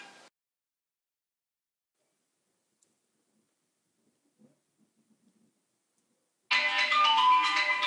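A phone ringtone bursts in loud and close after a long near-silent stretch, its tonal melody sounding through the final second or so.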